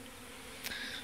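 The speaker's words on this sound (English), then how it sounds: "This is just bees learning where home is." Honeybees buzz around a newly installed package hive, a dense steady drone of many insects with one bee zipping close past for a moment, no talking.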